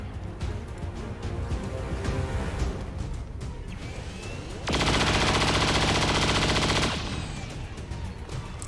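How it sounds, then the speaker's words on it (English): Soldiers' gunfire in XCOM 2, with scattered shots and then a loud, sustained burst of rapid automatic fire lasting about two seconds before fading back to sparse shots. "we're just going to start firing on the Lost and just not stopping"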